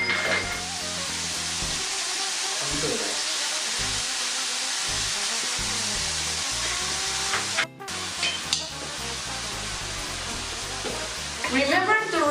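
Food seasoned with soy sauce and black pepper sizzles and crackles steadily in a hot frying pan, a continuous frying hiss with occasional stirring scrapes.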